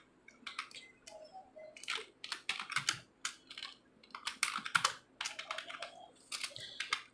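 Computer keyboard keys are pressed in quick irregular bursts of light clicks, close up and fairly quiet, with short pauses between runs of typing.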